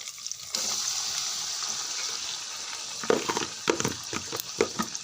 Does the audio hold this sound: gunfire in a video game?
no